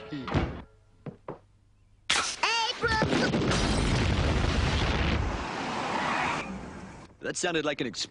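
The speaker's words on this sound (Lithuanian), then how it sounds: "Atrodo sprogo Simpsonų namas." A sudden loud blast of a house exploding swells into a long, rumbling roar lasting several seconds, with voices heard before and after it.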